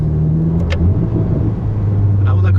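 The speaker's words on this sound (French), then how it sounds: "Ah, on a quand même des petits retours à l'échappement" Ferrari SF90 Stradale hypercar engine revving in manual mode, a loud close rumbling drone with faint crackling exhaust pops, under someone talking.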